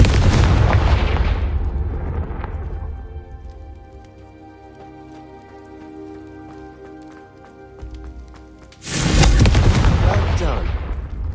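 A Confringo fire spell blasts in the Hogwarts Legacy video game, with a loud roaring burst that fades over several seconds into a humming, ringing tail before a second heavy blast erupts near the end.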